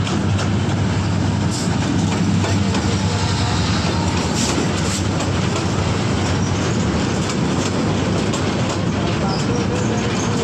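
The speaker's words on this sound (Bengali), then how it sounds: "ঢাকা থেকে ছেড়ে আসা ট্রেন চলে যাচ্ছে আমাদের মেঘনার উপর দিয়ে" An intercity train out of Dhaka crosses the bridge over the Meghna river, a loud, steady rumble with rhythmic wheel clatter that holds unbroken for the whole stretch.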